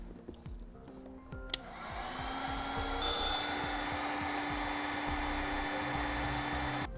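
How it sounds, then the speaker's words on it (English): A heat gun shrinks butt connectors during a towed-vehicle brake light relay installation. A few clicks come first, then the blower starts and settles into a steady, loud, continuous whirring rush that holds until the end. "we'll use a heat gun, which we have available on our website if you'd like to purchase one, to shrink down our butt connectors"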